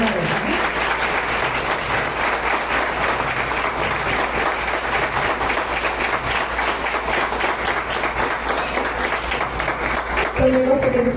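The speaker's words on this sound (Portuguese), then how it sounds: "gostaria de pedir à igreja uma linda salva de palmas para eles" Church congregation at an anniversary closing service giving a long, loud, dense round of applause that stays steady for about ten seconds before breaking off, with a voice coming in at the end.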